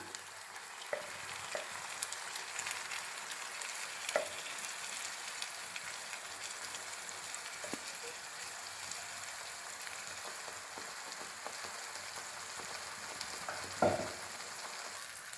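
Ground tomato sizzles and fries with ginger and garlic for rajma masala, giving a steady, fine crackling hiss that runs throughout with a few soft stirring clicks and taps, and no talking.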